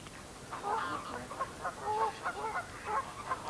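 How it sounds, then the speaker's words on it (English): Mallard cross ducks squabble on open water, giving scattered, fairly faint quacks and calls over a steady outdoor hiss, with no voices. "Lots of lovely ducks on this water, lots of mallard crosses"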